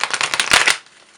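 A quick riffle of tarot cards being shuffled, a rapid papery flutter lasting under a second, then fading to quiet.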